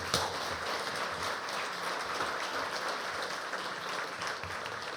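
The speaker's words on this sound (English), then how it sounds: "with a big, warm, welcoming applause, please welcome on the stage" An audience at a training conference applauds to welcome a speaker onto the stage, a dense, even wash of many hands clapping that holds steady at a moderate distance throughout.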